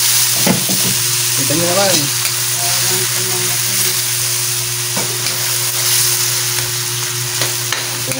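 Onions and garlic sizzling and frying in a pan, a steady loud crackling hiss with occasional stirring clinks, while a voice speaks briefly over the cooking.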